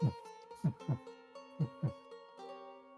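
In the visual novel Piofiore: Fated Memories, a heartbeat effect thumps in a few soft lub-dub pairs, close and muffled. A quiet sustained musical tone lingers underneath.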